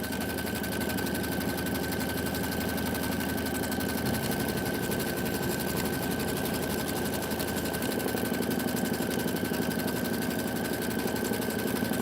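A computerized embroidery machine stitches a Kimberbell quilt tile design with a steady, rapid mechanical chatter and a constant whine, running continuously and close by without pause.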